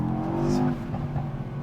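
A Mercedes-AMG E63s Final Edition revs hard under acceleration near Marbella, a loud, deep engine note rising briefly before easing off.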